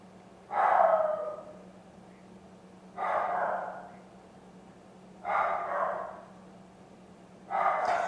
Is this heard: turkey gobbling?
no